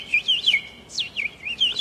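A person imitates a bird with a series of high whistled chirps and trills, repeated in short rising and falling bursts, fairly clear against quiet background.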